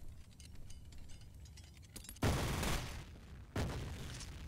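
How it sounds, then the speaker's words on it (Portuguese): Two loud, sudden gunshot blasts in the F.E.A.R. video game, each followed by a sustained noisy decay. Quieter game ambience and faint clicks come before them. "Ah, vou atirar."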